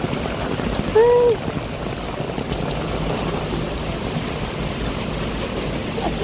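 Heavy rain pours down steadily throughout, a dense broadband wash at close range, with a brief sound rising above it near the one-second mark.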